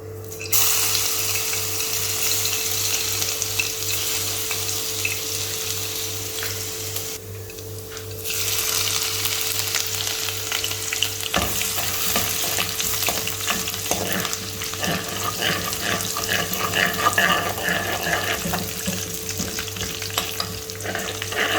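Chopped ginger and garlic fry in about 60 grams of oil for a restaurant-style chilli chicken gravy, a loud, continuous sizzle with stirring scrapes and a steady hum throughout, briefly dipping before resuming.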